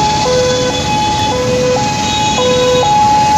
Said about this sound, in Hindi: सामने एम्बुलेंस आती हुई।